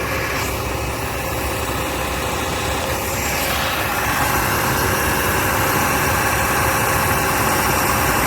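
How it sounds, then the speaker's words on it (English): A campervan engine idles steadily with its AC compressor clutch engaged and running, a constant close, loud low rumble and hum with no talk over it. "Compressor clutch is engaged and running smooth."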